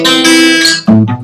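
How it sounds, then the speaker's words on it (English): A guitar plays an add 9 chord broken into single notes in a jazzy, bossa nova style: a sustained ringing chord, then a short run of separate plucked notes, close and loud. "That's an add 9 arpeggio."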